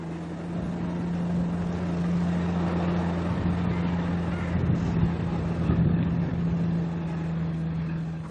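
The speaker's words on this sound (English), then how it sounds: "It's a beautiful little aeroplane you've built." A small homebuilt light aircraft's propeller engine drones steadily overhead with a low hum, holding near and fairly loud throughout, with slight swells in intensity.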